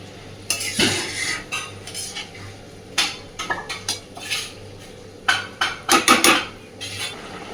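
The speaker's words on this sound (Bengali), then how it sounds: "খুব ভালোভাবে নাড়াচাড়া করে ঢাকা দিয়ে দেবো।" A metal spoon stirs prawn and potato curry in a pot, clanking and scraping against the sides in irregular bursts, close and fairly loud, with no talk.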